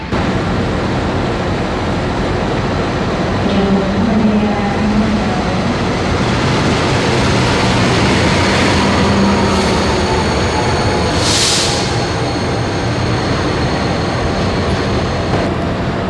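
Baturraden Ekspres business-class train at Kroya station during a locomotive repositioning, a continuous broadband rumble of rolling stock with a brief hiss of air near the end, fairly loud and close throughout.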